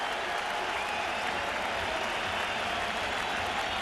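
A large baseball crowd at Shea Stadium rises and applauds during a 2000 World Series game against the Mets, a sustained, dense wash of clapping and cheering from the stands.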